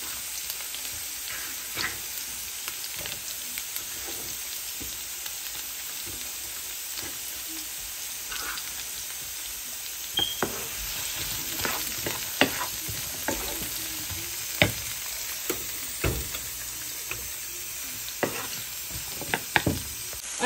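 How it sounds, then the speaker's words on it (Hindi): Ginger and chopped garlic sauté in a pan with a continuous soft sizzle, punctuated by scattered clinks and scrapes of stirring that come more often in the second half. "अदरक, कटी हुई लहसुन एंड इसे 2 मिनट तक सौटे करना है"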